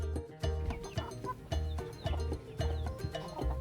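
Backyard chickens clucking nearby, a brisk run of short, repeated clucks and squawks in an uneven rhythm, fairly faint but clear, with no talk.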